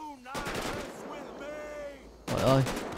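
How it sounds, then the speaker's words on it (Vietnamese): Gunfire in the video game GTA 5, with loud bursts in quick succession at the start and again near the end, surrounded by game noise and a few short tones. "Mình nghe tiếng súng bắn khá là nhiều luôn các bạn."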